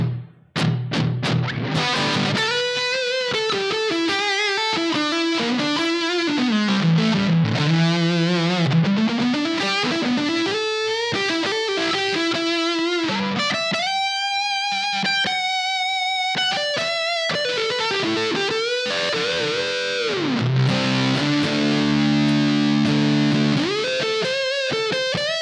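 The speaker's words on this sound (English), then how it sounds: "Let's go ahead and put on just a tad bit of reverb" An electric guitar playing melodic lines with an overdriven tone through a Line 6 HX Effects Legacy Room reverb, notes ringing into a roomy reverberant tail, loud and continuous.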